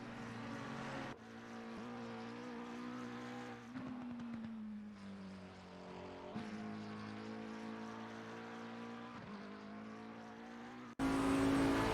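A McLaren GT race car in a Silverstone sprint race holds a steady, droning engine note that shifts pitch gradually over several seconds, fairly faint, before it cuts to a louder different engine tone near the end, with no talking.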